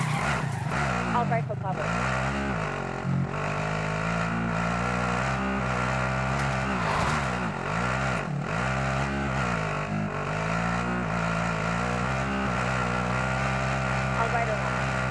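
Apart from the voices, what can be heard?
car driving in the video game Call of Duty Warzone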